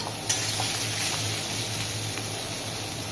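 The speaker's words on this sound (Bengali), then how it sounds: "প্রায় 3-4 মিনিট মতো ঢেকে ঢেকে একে আমি ভেজে নিই।" Bitter gourd (karela) frying in a covered pan, a steady, soft sizzle and crackle of oil, with faint occasional pops, heard alone.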